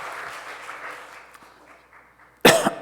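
Church congregation applauding during a worship service: a steady patter of clapping rises into a short, loud burst near the end, with no talking.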